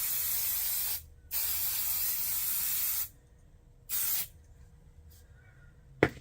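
An aerosol can sprays in bursts: a long hiss, a gap, another long hiss, then a short spurt, with quiet pauses and a small click at the end.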